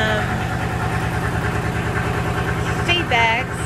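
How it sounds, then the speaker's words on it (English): A small tractor engine idles with a steady, rumbling pulse, loud and close, with a brief squeal near the end. "Not sure if you can hear me over the little tractor."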